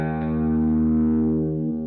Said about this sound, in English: And then I have a phaser.